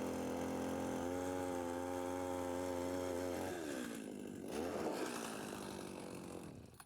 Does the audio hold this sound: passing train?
no